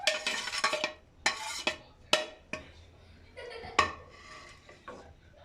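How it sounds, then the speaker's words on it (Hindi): Shredded chicken tipped into a pot of chicken soup with cooked vegetables: a series of sharp metal clanks and scrapes of a spoon against the pot, close and loud, separated by brief pauses. "अब इसमें हम डालेंगे चिकन"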